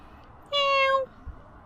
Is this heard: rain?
no